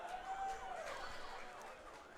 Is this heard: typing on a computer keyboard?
no